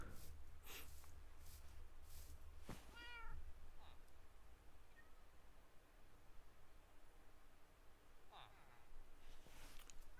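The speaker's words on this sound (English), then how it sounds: "I accidentally punched the cat with my shovel." A cat meows in the Minecraft video game after being accidentally punched with a shovel, a short rising meow standing out over steady background noise, with talk around it.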